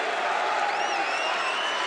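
Applause from a basketball arena crowd at a Bradley Braves home game against Indiana State greets a player checking out. It is a steady, dense wash of many hands, with scattered whistles and cheers above it, continuous throughout.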